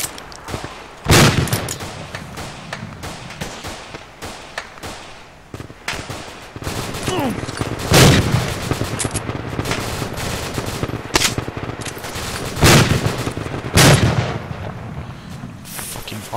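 Gunfire in a military video game comes as repeated loud, sharp shots and bursts spread across the clip, with heavy blasts about every few seconds over a busy battlefield background.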